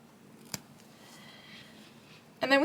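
Scissors give a single quick, crisp snip through a crocheted yarn tail on a potted cactus project, faint and close, before a voice starts speaking.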